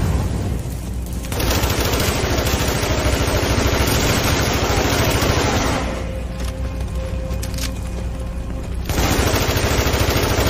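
Rapid automatic gunfire from the video game The Division, with bursts filling most of the stretch alongside a steady low engine-like drone, pausing briefly between volleys before resuming loudly.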